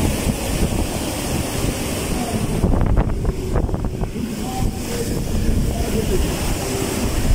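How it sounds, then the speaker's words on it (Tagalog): Typhoon-driven waves and strong wind lash the shore in a continuous loud roar of surf, with heavy wind buffeting throughout and a brief stretch of crashing water in the middle. "kasi nga abot ng alon dito"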